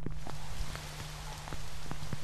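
Rain falling over delta wetlands and reed beds: a steady patter of raindrops with distinct close drips scattered through, a brief softer dip midway, and a faint constant hum underneath.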